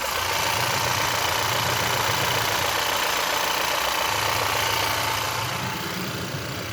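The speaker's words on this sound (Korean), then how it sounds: "빠르게 엔진은 들려드릴게요" Volvo S90 gasoline sedan engine idling with the hood open, a steady close mechanical hum with a faint ticking, quiet and even throughout.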